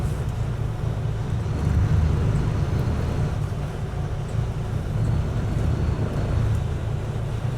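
A 2007 Sunseeker Portofino 47 sports cruiser spinning round in heavy wind and tide, a constant deep engine rumble heard close with a steady wash of wind noise and no talk.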